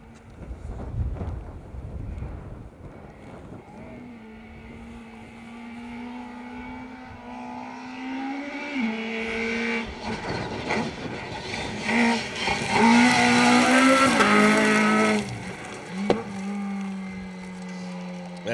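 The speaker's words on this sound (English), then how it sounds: "There's Liam in the Fiesta, pushing hard as we've come to know him for now." A Ford Fiesta rally car on a stage of the Plains Rally in the Welsh Rally Championship approaches from a distance, its engine note climbing and revving harder as it races past loud and close, then fading, with some wind noise.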